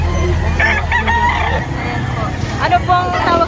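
A Talisayin rooster, seven to eight months old, crows at a busy poultry market in Lipa, Batangas. Its long harmonic crows come twice, close and loud, over crowd murmur and background market noise.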